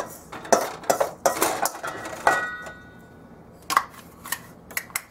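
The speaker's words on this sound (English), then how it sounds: "I transfer the blended ones to the bowl" Blended sesame chutney powder is scooped from a blender jar into a bowl, making a run of sharp metallic clinks and scrapes in irregular bursts, close up, with a quiet pause midway.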